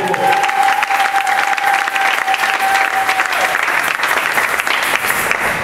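Church congregation applauding to acclaim the Lord, loud sustained clapping from many hands filling the room, steady and dense throughout with a faint voice or tone briefly beneath it.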